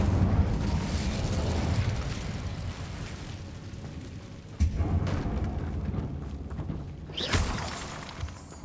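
Incendio fire spells cast in Hogwarts Legacy come as a series of fiery bursts. A roaring blaze opens the sequence, and sharper flaring whooshes follow around the middle and again near the end, all close and loud.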